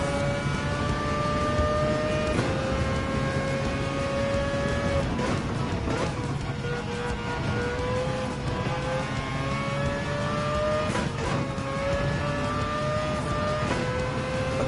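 Racing car engine in Gran Turismo 7, an RX Vision GT3 concept on the Dragon Trail circuit during a World Touring Car 800 race, droning loudly and steadily at high speed with rising and falling pitch as it shifts through gears, no talk.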